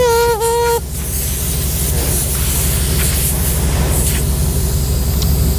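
Steady, loud hiss of air venting through tire deflators preset to 20 psi, screwed onto the valves of an off-road vehicle's tires in a state forest, with a brief tonal squeal at the start and continuous broadband rushing throughout.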